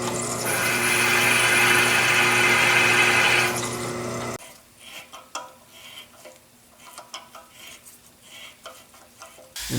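A small drill press clamped to a workbench bores holes in machine frame parts for a Yates American B244, making a steady loud whirring grind for about four seconds before cutting off, followed by quieter scattered clicks and handling sounds.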